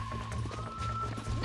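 Horse hooves clip-clop in a quick rhythmic gallop in the Red Dead Redemption video game, close and clear over a low steady game hum.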